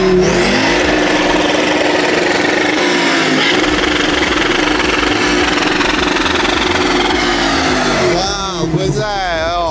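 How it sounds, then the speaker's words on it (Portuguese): A stage 2 tuned BMW 640d diesel revs hard and close. The engine note climbs and falls through several sharp blips, and people talk excitedly over it. "Carro a diesel, meu friend. Carro a diesel, agora."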